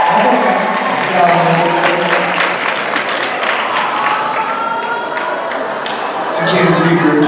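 Audience applause fills a Scream panel at the 90s Con CT 2025 fan convention, a steady wash of clapping that runs the whole clip beneath a voice talking over it.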